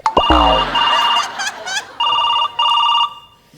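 Telephone ringing loudly nearby in bursts of electronic ringtone, starting after a sharp knock and repeating in several pulses, with voices and laughter mixed in under the tones.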